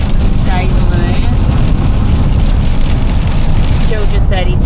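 Heavy rain lashes down on a motorhome parked at a free stop on an olive farm, a dense, loud, steady roar that runs unbroken throughout, with a few faint chirps above it.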